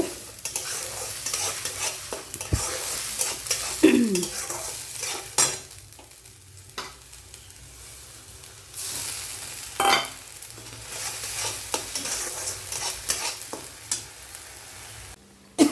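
Spices stirred and fried in hot oil for egg ghugni: a steady close sizzle runs throughout, with intermittent scraping strokes of a spoon against the pan and occasional soft clinks.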